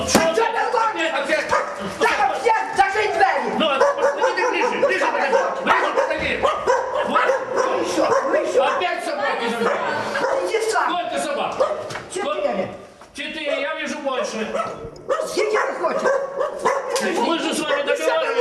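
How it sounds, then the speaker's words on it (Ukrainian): Several dogs bark and yip excitedly over continuous chatter and crowd noise, the barking busy and overlapping throughout. "Собаки гавкали та пригали по купам сміття"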